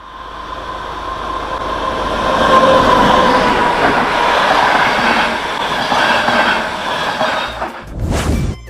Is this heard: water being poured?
no